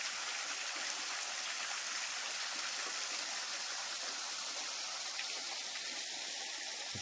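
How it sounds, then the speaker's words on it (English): A roughly 20-foot waterfall along the Natchez Trace spills off the edge of a big rock basin into a pool, giving a steady, broad rushing wash that holds constant throughout with no breaks or talk. "The waterfall just falls off into this pool of water"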